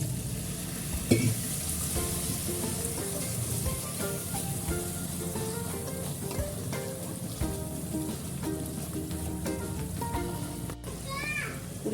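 Spice paste of dried chilli powder and salt frying in oil with a little water added, a steady close crackling sizzle with stirring clatter throughout, no voice.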